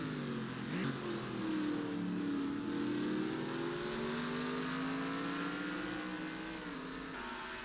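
Craftsman Cup race cars roar past during qualifying, a loud sustained engine whine with rising and falling pitch as one car overtakes another, steady and close throughout.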